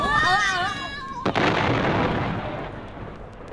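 Comedy radio sound effect of a giant capsule exploding: a sudden loud bang after a brief warbling tone, followed by a long rumbling decay that fades away.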